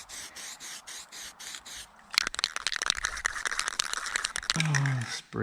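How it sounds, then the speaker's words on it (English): Black spray paint hisses in bursts onto a Smart car's front shock and spring parts, close and fairly loud, with rattling and scraping of the parts in between. "I'll spray paint it with this black stuff, even though it's not very good paint"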